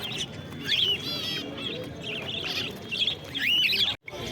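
Zebra finches at a bird market give repeated high, quick chirps and tweets in bursts, with other birds and market bustle around them.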